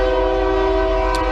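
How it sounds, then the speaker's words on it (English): Nearby train passing beside a workshop where a Farmall IH front axle is being worked on, a loud, steady, droning horn-like tone with rail rumble underneath, continuous and close, with no talk. "yep, train goes nearby."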